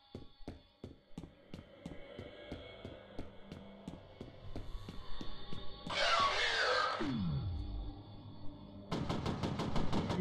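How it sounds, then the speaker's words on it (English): Shotgun blasts in the video game F.E.A.R., a series of sharp, evenly spaced shots followed by a louder burst of broadband noise and then another rapid volley near the end, with no talking. "Shotgun."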